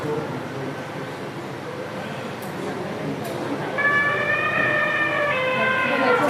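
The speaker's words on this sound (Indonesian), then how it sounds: "betul, berarti gajah" Over a muffled background, an elephant lets out a loud, brassy trumpeting call that repeats in wavering blasts.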